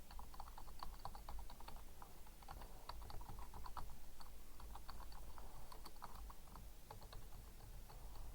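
Computer keys clack in irregular bursts as someone types into a spreadsheet on an Icaros Desktop system, with quiet, close, uneven taps and short pauses and no voices.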